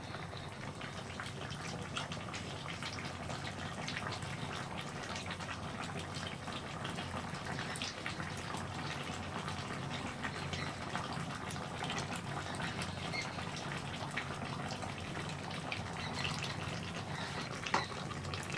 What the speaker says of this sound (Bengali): মাছগুলো দিয়ে দেবো